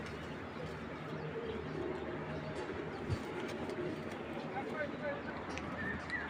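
Racing pigeons coo softly in a loft, low murmuring calls set against a busy background with a single sharp knock partway through; no clear talk.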